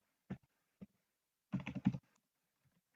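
Sparse computer keyboard keystrokes while typing text, with single clicks followed by a brief quick cluster of taps, close and quiet against near silence.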